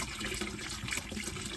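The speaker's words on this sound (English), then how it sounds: "So I'm going to pour about half the bottle" Antifreeze poured from a bottle into a travel trailer's bathroom sink during winterizing, a steady close liquid pour splashing into the basin throughout.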